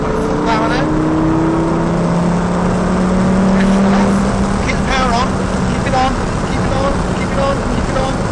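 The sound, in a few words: Lamborghini Gallardo accelerating at full power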